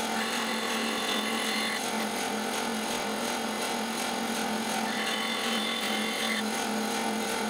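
A power tool cuts thin pieces of wood, a quarter to half an inch thick, for miniature segmented discs. It gives a constant loud whirring drone with a slight shift in tone as the cut proceeds.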